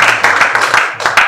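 Audience clapping in a hall during a university visit by the Nigerian High Commissioner, a short burst of loud, dense applause with quick rhythmic claps close to the microphone.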